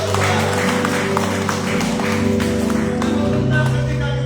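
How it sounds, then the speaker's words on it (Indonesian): A church congregation claps together in a steady, sustained burst of applause. The clapping is dense and moderately loud over a low musical hum, with a voice faintly mixed in. "Berikan tepuk tangan yang meriah untuk Tuhan"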